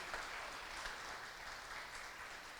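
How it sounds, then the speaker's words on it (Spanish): A church congregation applauds during a Sunday morning service, a faint, steady wash of many hands clapping at a distance, with no speech over it. "Eso amerita un aplauso para el Señor."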